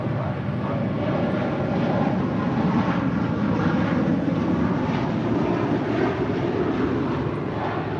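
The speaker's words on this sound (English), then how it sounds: "That is Qatar Airways 290 departing to Doha on the A350 1000." A Qatar Airways Airbus A350-1000 departs LAX, its jet engines producing a loud, steady, broadband roar that holds constant throughout with no voices.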